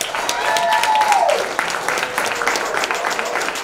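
Audience applause at a film premiere in a theater, steady clapping from a crowd of family and friends, loud and close, with a brief tonal sound at the start.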